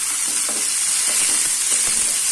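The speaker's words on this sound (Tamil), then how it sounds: "இப்போ தக்காளி நல்லா வதங்கட்டும்." Finely chopped tomato sautéing with onions in a pan, a steady close sizzle with a few soft stirring taps throughout.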